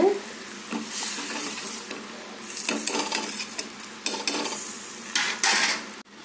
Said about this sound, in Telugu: పప్పును వేసుకుందాము ఒకసారి కలుపుకుందాము